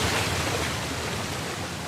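Steady rushing roar of a waterfall in the video game Uncharted 4, a dense, even wash of falling water that fills the whole moment without a break and with no voices over it.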